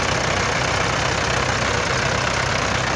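Mahindra 475 DI and Massey 241 DI tractors running in high first gear, a loud, dense, steady diesel engine roar that holds constant throughout, with no voices.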